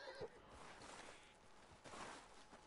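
A horse in the open-world western video game Red Dead Redemption 2 whinnies and snorts in two bursts, faint and fairly close, with light game ambience between them.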